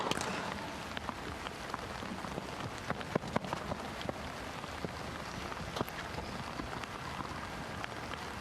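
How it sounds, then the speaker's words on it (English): Rain falling steadily on an outdoor tennis court, a dense hiss of drops with scattered sharper taps, continuous and fairly loud throughout. "Almost try and ignore the rain."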